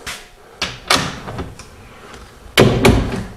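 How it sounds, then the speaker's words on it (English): Door of a 1928 Ford Roadster street rod pushed shut, a couple of light knocks followed by a heavier solid thud near the end, close by with no talk. "Put the third door back in place, close the regular door"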